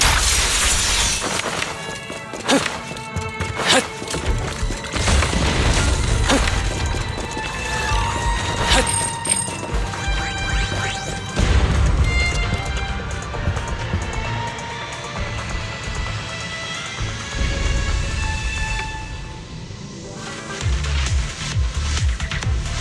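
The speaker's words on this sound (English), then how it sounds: "There's a risk of explosions nearby." Loud crashing and shattering explosion bursts with rumbling booms over busy game sound effects and music in Zenless Zone Zero, continuous and dense throughout.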